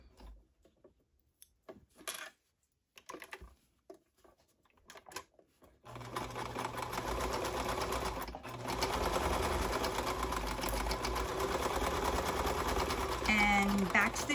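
A sewing machine stitches satin ribbon onto planner pen pockets, pivoting and then backstitching at the end, a steady mechanical whir running loud and close for most of the clip after quieter handling noises at the start.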